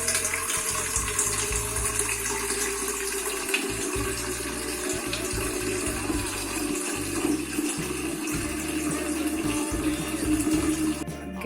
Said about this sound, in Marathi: आता ह्याच्यामध्ये प्यायचं पाणी भरून ठेवतो.